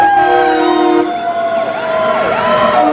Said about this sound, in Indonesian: Wow, ada mobil pemadam kebakaran.